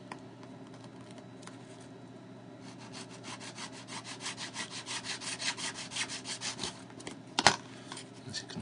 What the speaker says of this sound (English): Make with the razor saw.